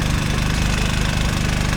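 A gold dredge engine runs steadily at idle, a loud, continuous low-pitched chug with a rhythmic knocking pulse and vibration, close by and with no voices.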